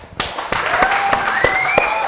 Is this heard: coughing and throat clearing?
no